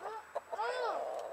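A rooster clucking in a backyard, a few short throaty clucks followed by a longer rising call, fairly close, with faint background sound.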